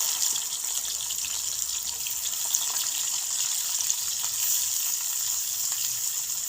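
Onions frying in a pan, a steady sizzling hiss that holds evenly throughout at moderate loudness with no talk.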